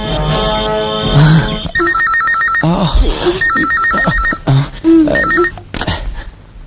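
A telephone rings in repeated electronic bursts, loud and close, interrupted by tones and voices speaking between the rings.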